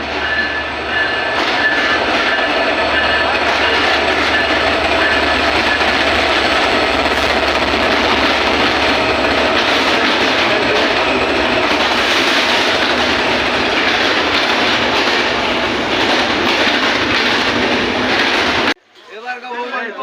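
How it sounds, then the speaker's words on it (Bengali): A train rolls into a station, loud rumbling and rattling of wagons with metallic clatter, sustained and close, before cutting off abruptly near the end. "এই মুহূর্তে একটি ট্রেন কিন্তু অটোমেটিকলি ঢুকে গেছে আমাদের স্টেশনে চলে আসছে ট্রেন"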